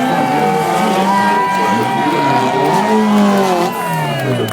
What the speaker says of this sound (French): Et Claude Boget avec lui aussi sa Renault 5 Turbo